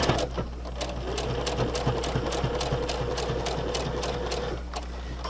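Close, rapid mechanical ticking of a sewing machine stitching a fabric mask with a filter pocket, a steady even rhythm over a low motor hum that runs throughout before slowing at the end.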